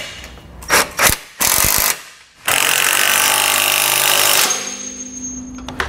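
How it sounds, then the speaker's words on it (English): Bolts on a Roadmaster direct-connect base plate being tightened with a 19 mm socket and wrench, heard as a few short clicking bursts followed by a longer, loud mechanical whir close by. "We can then go back and tighten down our hardware using a 19 millimeter socket and wrench."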